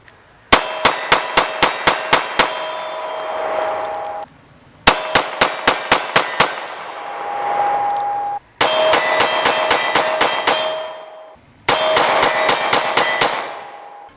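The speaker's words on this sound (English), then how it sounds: "We're going to shoot the Performance Shield first, and then we're going to follow up with the standard Shield." Smith & Wesson M&P Shield 9mm pistols fired in four quick strings of about six to eight sharp shots each, every burst followed by bright metallic ringing that hangs briefly before the next string.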